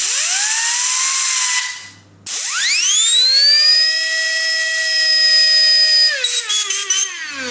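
A small toy electric motor on a 12 volt supply whines up to a high, steady pitch after a brief stop, then stutters and drops off near the end, loud and close.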